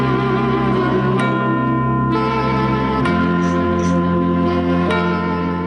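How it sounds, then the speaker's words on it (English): Auld Lang Syne played as music at the stroke of midnight on New Year's Eve, a steady sustained tune with shifting chords running alone throughout. "The stroke of midnight on New Year's Eve usually sounds like this."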